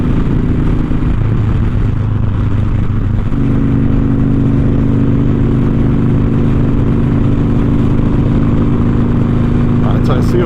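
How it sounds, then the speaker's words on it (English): A motorcycle cruises with traffic, its engine humming steadily with wind and road noise, the tone shifting slightly partway through as the pace changes. "We're just riding with the traffic now, same flow"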